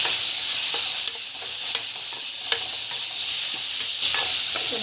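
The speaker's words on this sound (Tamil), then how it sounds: "அந்த தேங்காய் ஆட் பண்ணிட்டு நல்லா வதக்கிக்கோங்க" Coconut and tomato sautéing in a pan, a loud steady sizzle close by with regular scraping stirs of the spatula, no talking.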